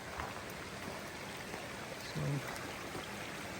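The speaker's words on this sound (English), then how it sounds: "came down here to the creek" A mountain creek in the San Gorgonio Wilderness flows with a steady, close rushing wash and faint trickles, while a person speaks briefly over it.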